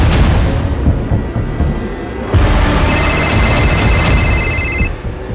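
A mobile phone rings with a repeating electronic tone over a loud, rumbling background, close by and sustained for a couple of seconds.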